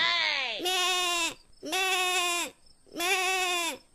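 A goat bleats three times in a row, loud and close, each call drawn out with a wavering pitch and short pauses between.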